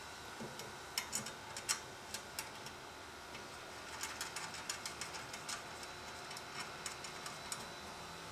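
A ratchet tightens nuts and bolts on a Kingsford Stockade 49-inch smoker and grill, making faint, quick clicking bursts at irregular intervals over a quiet room hum.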